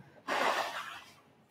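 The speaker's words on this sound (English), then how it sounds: "Listen, I have to blow my nose." A person forcefully blows their nose in a single burst of airy, close-up noise that starts suddenly and tapers off over about a second, with no talking during it.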